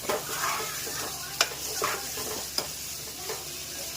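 Broad bean curry (chikkudukaya) sizzles in a pan while a utensil stirs it, with a steady soft frying hiss and a few sharp clinks of spoon against the pan.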